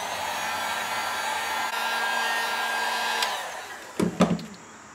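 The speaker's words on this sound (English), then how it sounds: "I have my heat gun just to speed up the drying process. I'm just going to turn it on low." Heat gun running on low to dry glue on EVA foam, a steady close blowing whoosh that holds evenly for several seconds before a couple of handling knocks near the end.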